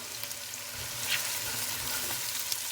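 Meatball curry sizzling steadily in a pan with cloves, a spoon stirring through it in soft scraping passes, close and continuous with no talk.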